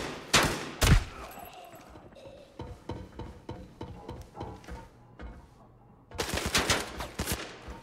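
A new gun from the Season 4 update in the video game Arena Breakout fires in loud bursts at the start and end, with scattered quieter shots and mechanical clicks in between.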